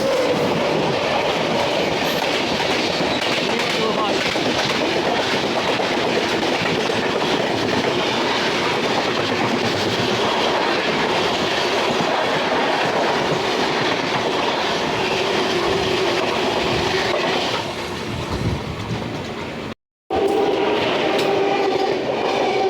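The non-stop Prayagraj–New Delhi Humsafar Express thunders by at speed beside a moving train, a long, loud, close roar of clattering wheels and rushing coaches that breaks off briefly near the end.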